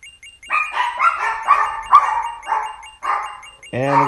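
Dogs barking in the video game Sorcery Saga 3: a quick run of about seven sharp, close barks in an uneven rhythm, ending in a longer whining yelp.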